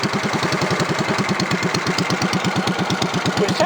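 A Cub Cadet 3050 four-wheel-drive compact tractor engine idles close up, with a steady, even, fast chugging pulse that holds at a constant speed throughout.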